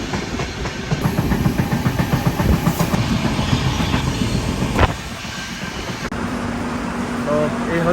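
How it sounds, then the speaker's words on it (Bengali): A passenger train out of Kolkata rolls along with a continuous low rumble and rhythmic clatter of wheels over rail joints, loud and steady, with a brief sharp knock midway. "তো এই হচ্ছে আমাদের ট্রেন কলকাতা থেকে ছাড়লো"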